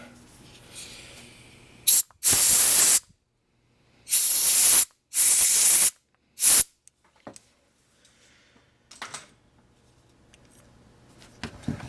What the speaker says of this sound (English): quick shot of air.